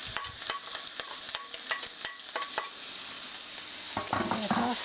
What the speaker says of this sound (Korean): 2분 정도 볶아주세요